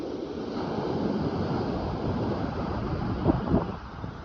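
Strong ocean surf rolls onto a deserted beach, a steady roar of waves with wind buffeting the microphone and a couple of louder crashes near the end.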